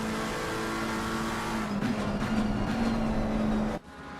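BMW GT3 race car engine at Valencia in a sim racing game, a steady loud drone holding one pitch, then a slight rise before cutting off sharply near the end.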